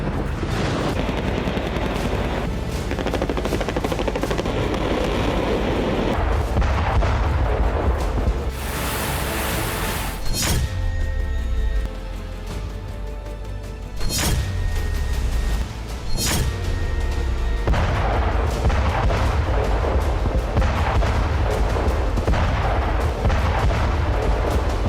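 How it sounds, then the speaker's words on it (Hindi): A bridge blown up in wartime: heavy explosive blasts with deep rumbling booms, one large detonation followed by two sharper bursts, over continuous loud low roar and debris noise throughout. "Взорвали мост."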